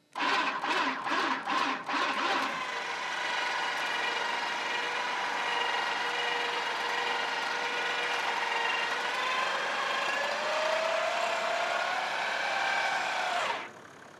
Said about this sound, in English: As I start winching, the tyre will move towards the vehicle and the winch cable is actually rising up and it's lifting the vehicle out of that sand.